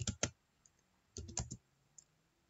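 Faint computer keyboard typing comes in two short bursts of a few crisp key clicks, separated by a quiet pause, with a lone click at the end.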